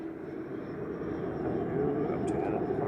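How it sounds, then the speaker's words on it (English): A passenger plane, arriving from Bilbao, comes in to land at Manchester Airport on an evening, heard as a steady, distant jet roar that swells slightly and holds throughout. "Next in is Leave Aviation coming in from Bilbao."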